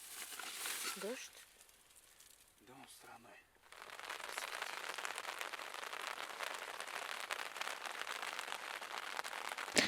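Rain patters on a tent during a thunderstorm while camping by the sea in Crimea, a dense, steady hiss that swells after a brief lull, with people talking quietly early on.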